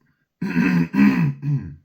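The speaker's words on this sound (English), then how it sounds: "I'm coughing a bit." A person coughs and clears their throat in three throaty bursts, close and fairly loud, with short pauses between.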